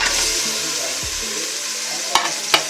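A mix of half coconut oil and half ghee frying in a pan, a steady close sizzle with a low hum underneath and two brisk clacks of a spoon stirring near the end, no talk.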